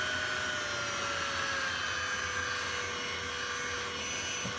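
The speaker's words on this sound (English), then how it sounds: "And you want to be careful with the speed that you use to drill." Steady high-pitched whirring of a small drill polishing a scratched tablet screen, running continuously, with a slowly shifting whine, close and loud.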